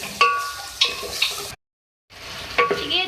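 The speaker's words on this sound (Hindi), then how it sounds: "अदरक लहसुन का पेस्ट डाल के तो आप सही से चिकन में भून लें" Chicken pieces sautéed with ginger garlic paste in a pan, a steady sizzle broken by repeated scraping stirs of a spoon, close up, with a short silent gap midway.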